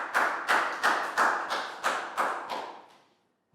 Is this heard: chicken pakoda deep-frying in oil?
no